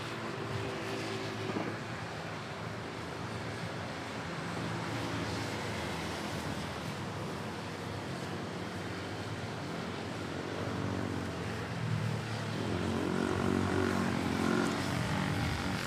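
British Airways Airbus A380 jets at Manila Airport give off a steady, distant engine rumble that swells slightly near the end.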